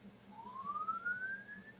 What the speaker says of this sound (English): Oh, we got sirens here.